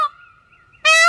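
Peacock calls, loud and nasal: one ends at the start, a thin tone lingers through a quiet gap, then another sharp call bursts in close at the end.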